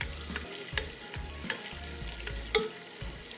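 Green chili paste and curry leaves sauté in a pan for arvi gosht with a soft, low sizzle. Sharp stirring clicks and spoon taps land at intervals over a steady background tune, and there is no talking.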